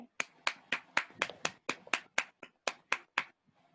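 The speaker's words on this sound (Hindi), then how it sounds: "तालियां हो जाए सिद्धार्था के लिए" Audience at a Grade 7 school Independence Day program clapping for a student named Siddhartha, heard as about fourteen sharp, separate claps in a steady rhythm, close and fairly soft, dying out near the end.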